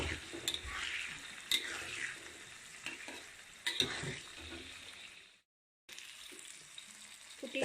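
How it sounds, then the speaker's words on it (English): Onions, tomato, lemongrass and a cinnamon stick frying over slow heat in a pan, a dense close sizzle with occasional stirring clicks, briefly cutting to silence before resuming. "I have to cook the ingredients: the onions, the tomato, lemongrass, and the cinnamon stick"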